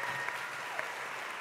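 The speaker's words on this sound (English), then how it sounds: "let's give everybody a round of applause for making it here today" An audience of young leaders and civic representatives at a town hall summit applauds, a dense, even wash of clapping that holds steady through the short stretch.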